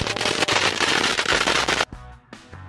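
Long-fuse firecracker at a folk fireworks celebration, set at a seedling bed: a loud, dense crackling burst of fizzing pops lasting nearly two seconds, then tapering into scattered fainter crackles.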